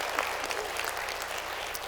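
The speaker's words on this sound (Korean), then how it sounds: "박수 치시죠." Brief, dense applause from a lecture audience in a hall, continuous and even for a couple of seconds with no talking.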